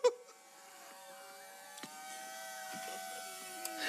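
A waffle maker overflowing with too much batter gives off a thin electrical buzz with steady tones and occasional clicks, quiet and alone.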